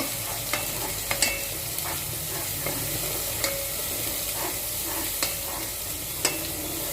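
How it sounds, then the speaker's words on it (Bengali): Spiced liver bhuna base frying in a pan with ground cumin and coriander, a steady close sizzle broken by irregular spoon scrapes and stirring clinks, no talk. "1/2 চা চামচ জিরার গুঁড়া। সবগুলো একসাথে কষিয়ে নেব।"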